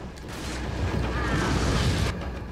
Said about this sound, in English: I might be able to get him with an incendiary here